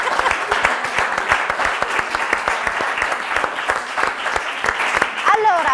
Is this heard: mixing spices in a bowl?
no